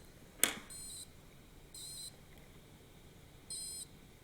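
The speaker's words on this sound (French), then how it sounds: "Et voilà, le buzzer s'est déclenché." A small buzzer alarm on a Raspberry Pi, triggered when a temperature sensor passes 25 degrees, sounds three short high-pitched beeps at steady intervals after a sharp click, faint in a quiet room.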